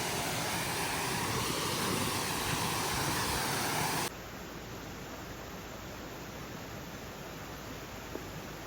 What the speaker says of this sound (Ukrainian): Я вже чую водоспад